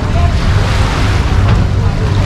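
Waves roll onto a free public beach in Budva, Montenegro, a loud continuous wash of surf mixed with heavy wind rumble on the microphone.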